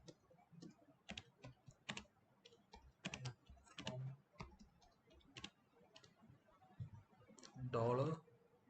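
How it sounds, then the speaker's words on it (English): Rapid, irregular clicking of computer keyboard keys while JavaScript code is typed, with bursts of keystrokes close by and a person talking in between. "I'm typing"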